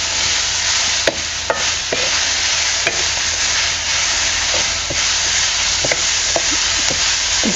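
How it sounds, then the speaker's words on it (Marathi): Onion, tomato and garlic sautéing for chole masala produce a loud, continuous close-up sizzle, broken by occasional clicks from a stirring utensil. "हे कांदा बरोबरच आहे ना ते सुद्धा आपण परतून घेऊया"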